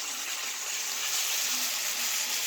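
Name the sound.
ribeye steak frying in a pan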